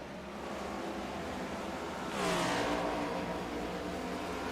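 A race car engine in the iRacing sim at Nashville rises out of steady broadband noise as the car passes, a whining pitch sweeping downward around the two-second mark, then holding at a moderate level.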